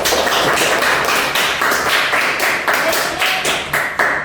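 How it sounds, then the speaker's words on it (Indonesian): A high school class clapping for a student during a micro-teaching lesson, a close, loud burst of dense rhythmic hand claps in steady pulses that carries on for several seconds. "Tepuk tangan untuk Mbak Ayu."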